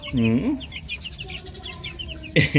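Chickens cluck nearby, with a hen's drawn-out call at the start and another burst at the end, and thin chirps from chicks running between them.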